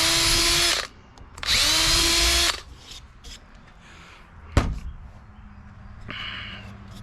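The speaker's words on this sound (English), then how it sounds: "Gonna go ahead and drill these" A power drill bores 1/8 inch holes through a fillet knife handle in two loud, sustained whirring bursts, followed by quieter handling clatter, a sharp knock, and a brief final spin-up.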